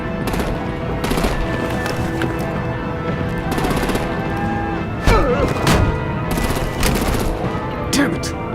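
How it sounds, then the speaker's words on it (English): Gunfire and artillery from a Batman: The Enemy Within Telltale game, with steady overlapping automatic fire and scattered heavy thumps and blasts, loud and continuous, with voices shouting over the battle. "Break out the artillery and disable their vehicles!"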